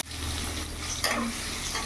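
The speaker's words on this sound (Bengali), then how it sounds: "এখানে আলুটা ভাজা হোক" Cut potatoes with a little salt and turmeric fry in oil, making a steady, close sizzling hiss with one brief metallic clink partway through.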